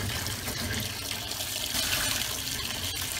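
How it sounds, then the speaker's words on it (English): Steady rush of cold tap water pouring and splashing over potatoes in a sink, continuous and close, with no voices. "And immediately run cold water to stop the cooking process."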